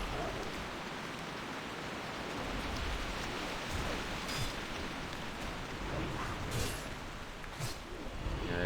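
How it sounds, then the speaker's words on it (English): A brief rain shower in a World of Warcraft-style game pours as a loud, dense, continuous hiss, swelling slightly midway with a few sharper spatters, steady from start to end with no talking. "Yeah, there goes the rain."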